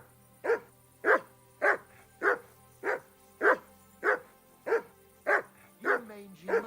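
A dog in Kingdom Come Deliverance 2 barks about eleven times in a steady, evenly spaced rhythm, each bark clear and fairly close, over a faint background hum.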